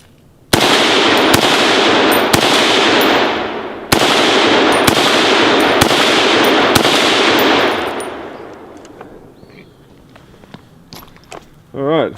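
An AR10 rifle in .308 with a muzzle brake fires a string of about eight loud, sharp shots in quick succession outdoors, each blast ringing out before the echo fades into quiet and faint movement.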